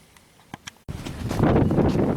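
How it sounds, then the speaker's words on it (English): Wind gusts buffet an off-grid homestead, a loud rumbling roar of wind against the microphone that comes in suddenly after a few faint knocks and builds steadily. "We're getting wind gusts."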